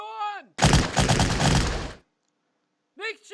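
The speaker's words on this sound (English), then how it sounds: "Let's use our SMGs here to take care of these guys" SMG gunfire in Battle Academy 2, a loud sustained rattle of rapid automatic shots lasting about a second and a half, with someone speaking briefly before and after.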